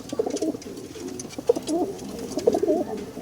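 Racing pigeons coo softly nearby in a loft, several low, throaty warbling calls repeating over a quiet background.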